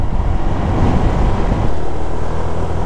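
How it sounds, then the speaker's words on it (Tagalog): Dense road traffic in the town center of Batangas City, a constant broad rumble of many vehicles with a loud, steady low-frequency roar and no distinct individual pass-bys. "Napakaraming sasakyan."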